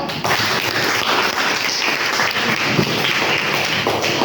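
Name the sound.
class clapping hands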